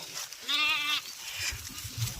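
A sheep wandering in a village field in search of water gives one clear, wavering bleat near the start, loud and close, followed by quiet outdoor background.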